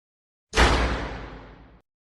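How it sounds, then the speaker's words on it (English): A screen door slams once, a sharp sudden hit that trails off into a fading rattle and reverberation over about a second, alone in otherwise silent surroundings. "he suddenly hears the screen door slam"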